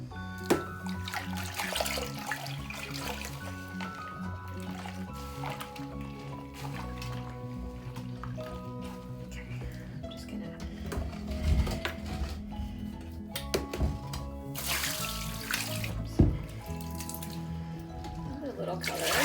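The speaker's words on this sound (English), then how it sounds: "And now we're going to get rinsing." Naturally dyed yarn rinsed under a running kitchen tap, steady splashing water with clinks of a pot or basin, fairly close and moderate in level, with someone talking now and then.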